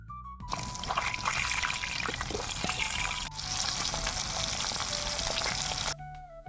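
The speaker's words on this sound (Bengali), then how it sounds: "মা এবার মাটির চুলায় আগুন ধরিয়ে কড়াইটা বসিয়ে দিল আর গরম গরম তেলে মাছগুলো ছেড়ে দিল।" Hot oil crackling around pabda and sarputi fish in a pan on a village clay stove, a close, loud, steady sizzle with sharp spits and pops, briefly interrupted at cuts.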